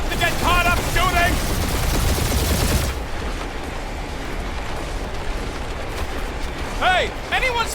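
Sustained gunfire and explosions rumble through combat in the Guardians of the Galaxy video game, a dense, loud barrage under intermittent character voices.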